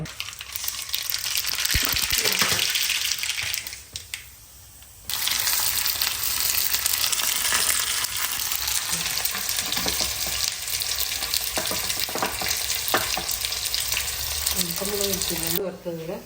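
Loud, dense sizzling and crackling of hot oil in a pan heated for mustard seeds, continuous and close, with a short lull and a voice briefly at the end.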